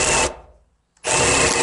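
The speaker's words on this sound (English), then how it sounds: "So let's try spade bit on the impact driver." A Milwaukee impact driver turns a spade bit into wood in two loud bursts of buzzing, rattling drive, split by a short pause of near silence.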